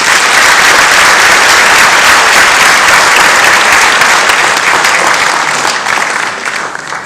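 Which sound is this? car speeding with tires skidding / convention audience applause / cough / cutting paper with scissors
convention audience applause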